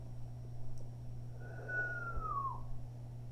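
A single whistled note glides slowly downward, brief and fairly clear over a low steady hum.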